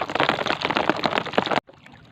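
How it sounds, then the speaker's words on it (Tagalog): Rain pours down during a fishing trip, a dense, steady hiss of drops that runs loud for about a second and a half before cutting off abruptly to near quiet. "ulan na po talaga"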